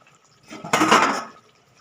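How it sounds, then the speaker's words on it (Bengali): A lid set down on a cooking pot of pomfret with fenugreek, one brief clattering knock with a short metallic ring, close and alone. "আমি দু মিনিট ঢেকে রাখছি"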